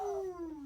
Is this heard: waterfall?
no